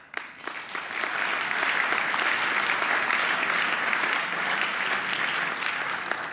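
Audience applause at the 38C3 hacker conference during a talk, a sustained dense clatter of many hands that swells after a brief start and carries on steadily throughout.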